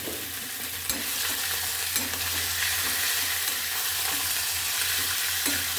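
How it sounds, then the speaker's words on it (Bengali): Chicken pieces land among well-fried onions in hot oil for a mustard chicken dish, producing a dense, even sizzle with occasional stirring knocks, close and continuous, no talking. "এবার আমি চিকেনগুলো দিয়ে দেবো।"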